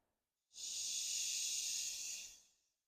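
A person breathes out a long, steady hissing exhale imitating a snake during a relaxation breathing exercise, close and even for about two seconds before fading out.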